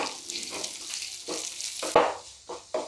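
Sliced onions sautéing in a pan with curry leaves and a pinch of turmeric: a close, steady sizzle broken by several short stirring scrapes and a few sharper clinks, with no talking.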